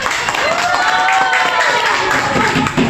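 A classroom of students applauding the last group to present, a steady burst of clapping mixed with voices and chatter throughout, fairly loud and close.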